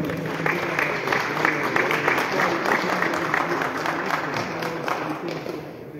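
Audience applause welcomes an engineer at a school event in Moquegua, a crowd clapping steadily with distinct individual claps audible, some voices mixed in beneath.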